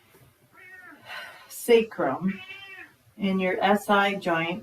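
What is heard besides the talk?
pet cat meowing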